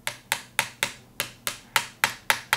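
A small flathead screwdriver taps repeatedly on the selector of an AK-series airsoft rifle during takedown, giving ten sharp, evenly spaced metallic clicks about a quarter second apart, close and crisp with nothing else around them.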